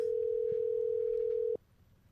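A single steady telephone tone sounds clearly for about a second and a half, then cuts off abruptly, leaving only faint low room noise behind.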